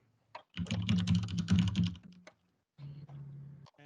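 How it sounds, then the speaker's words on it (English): Rapid bursts of keyboard typing sound close by, a dense clatter of keystrokes that stops, pauses, then resumes briefly. "That's what I'm hammering out here on my keyboard real quick."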